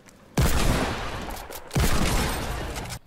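Two loud sustained bursts of rapid gunfire in Fortnite, each lasting over a second and fading slightly, separated by a short gap.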